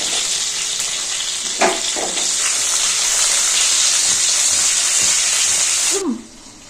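Two Kashmiri chillies hit hot oil in a home kitchen pan while a stuffed brinjal curry is being made, giving a loud, continuous close sizzle with a couple of brief knocks, which cuts off sharply near the end.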